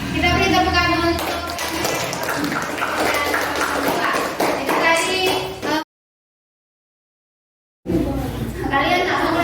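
A school audience gives a round of applause during a student council candidate debate, with a burst of dense clapping mixed with voices, a brief silent gap, then more clapping and chatter.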